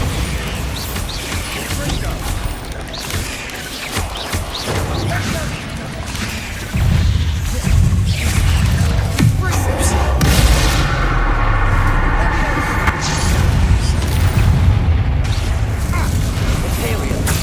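Explosive Bombarda spell blasts in Hogwarts Legacy, played on PS5 at hard difficulty: loud, dense booms and crashes mixed with clanking mechanical clatter, continuous and near, with a voice speaking over the action.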